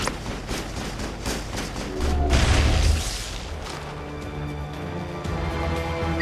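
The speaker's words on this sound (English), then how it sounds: "Manovai is under coordinated crossfire" Crossfire in Mass Effect: sharp gunshots snap in quick succession, with a heavier booming burst in the middle that then thins out to scattered shots over a low drone.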